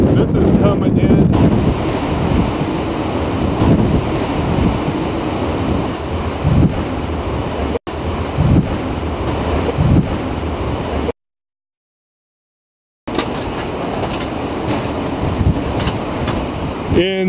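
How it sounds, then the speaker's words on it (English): Strong wind roars into the microphone during a severe thunderstorm with blowing dust, a loud continuous rushing gust that cuts out briefly partway through before resuming. "Insane blowing dust."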